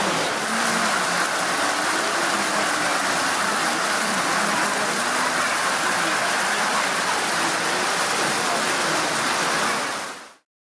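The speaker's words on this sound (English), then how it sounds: "it's raining quite a bit" Steady, dense rainfall hisses continuously and loudly up close on the Khopra trek in the Annapurna region of Nepal, with no other sounds breaking through before it cuts off abruptly.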